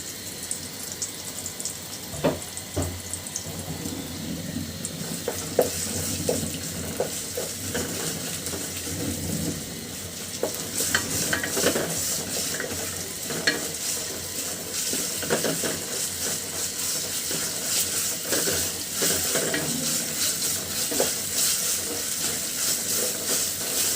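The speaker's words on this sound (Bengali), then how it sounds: "মশলাটা তেলের সঙ্গে খুব ভালো করে ভাজি করে নেব।" A cumin and garlic spice paste fries in oil with tomato for an egg and tomato curry, giving a continuous sizzle broken by scraping stirring clicks throughout.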